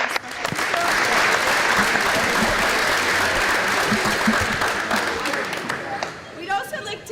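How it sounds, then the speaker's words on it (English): Audience applause fills the gym at a junior championship basketball game, loud and sustained for most of the stretch, then thinning out near the end as a voice comes through. "So a round of applause to our special people."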